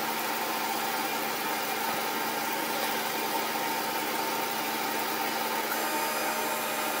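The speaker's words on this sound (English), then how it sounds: "the tool head is zeroing out to the Y" A Snapmaker 2.0 tool head travels as it zeroes its position, a steady motorized hum and whir running unbroken and fairly loud at close range, with no voices.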